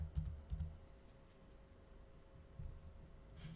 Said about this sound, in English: type in Pretty Link.